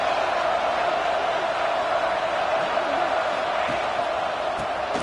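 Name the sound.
football stadium crowd cheering and roaring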